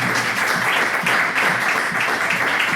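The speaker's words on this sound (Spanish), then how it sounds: "Un aplauso para los 4." Dense, sustained applause from a crowd, loud and continuous with slight swells in intensity.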